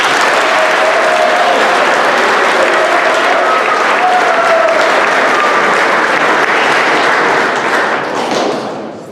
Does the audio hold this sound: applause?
yes